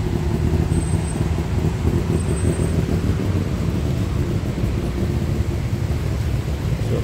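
Dense street traffic with tuk-tuks rumbles beside Tha Phae Gate in Chiang Mai, Thailand, a loud, continuous wash of engines and road noise with no break, heard without any talk.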